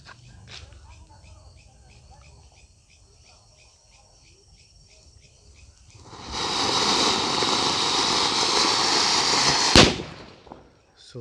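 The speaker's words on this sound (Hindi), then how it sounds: "फिर नेक्स्ट हम टेस्ट करेंगे लाइक हमारा ये जो कि गंगा जमुना वाला पटाखा" After quiet outdoor ambience with faint insects, a Diwali firecracker goes off in a loud sustained hissing, crackling burst, ending with a sharp bang.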